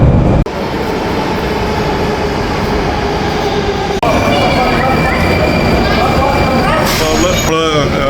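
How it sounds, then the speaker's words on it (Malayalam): A Moscow metro train rolls loudly through a tunnel with a steady roar, a couple of abrupt jolts, and rising whining tones near the end. "മോസ്കോ മെട്രോ കയറാൻ പോവാണ്."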